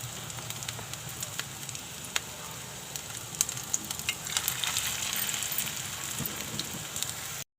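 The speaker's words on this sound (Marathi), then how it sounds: "सर्व घालून घेतलेत आता चांगले खरपूस भाजून घेते मी सॅलो फ्राय करते" Poha, besan and fine semolina snacks shallow frying in hot oil in a kadhai on a gas stove, giving a steady close sizzle scattered with sharp crackles and pops throughout, no talking.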